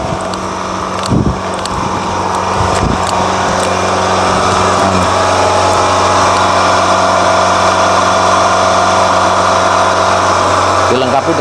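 A supercharger-type aeration blower runs steadily beside a large red tilapia biofloc tarp pond, a loud continuous machine drone with strong low hum throughout, with someone speaking over it.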